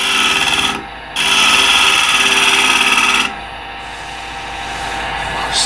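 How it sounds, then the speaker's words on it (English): A shear scraper cuts wood on a lathe while a bowl is turned, a loud close rasping scrape in two long passes with a brief break between, followed by a softer steady scraping. "And now I can use it as a shear scraper."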